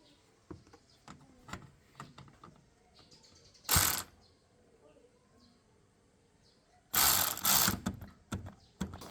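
A DAGMARA cordless ratchet wrench (not an impact wrench) tightens a 10 mm nut, giving two loud, sustained whirring bursts with a sharp stop, among quieter clicks and handling noise.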